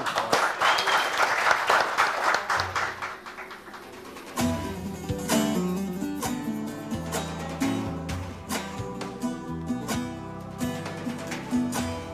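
A studio audience breaks into strong applause for the singer, a dense clapping burst that fades after a few seconds as the music begins.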